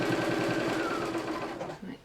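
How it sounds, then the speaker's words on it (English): A sewing machine stitches fabric onto a bottom piece all the way round, running in a steady rapid rhythmic chatter that slows and stops near the end, with a voice talking faintly underneath. "we're just sewing it to the bottom piece all the way round"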